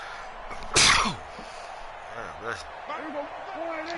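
One sharp, loud sneeze bursts out close to the microphone, with quieter speech and game sounds following it.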